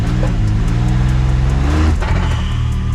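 A Can-Am Maverick X3 Turbo RR engine idles and revs under load with the brake held, loud and close, with a faint airy hiss of an aftermarket RPM blow-off valve venting as the revs shift.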